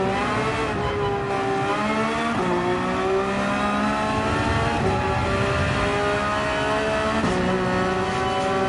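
A race car in Gran Turismo 7 at Monza drones at steady high revs, with the engine pitch dipping and jumping back several times as the throttle is blipped, running on continuously with no talk.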